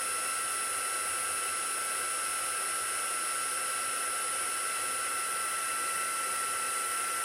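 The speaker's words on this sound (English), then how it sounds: "The heat gun will be a little warmer now, so it will start melting a little bit quicker, and then just run it across." A heat gun blows a steady, even broadband whoosh as it melts embossing powder on a stamped Christmas card, the hiss running continuously and close with no talking.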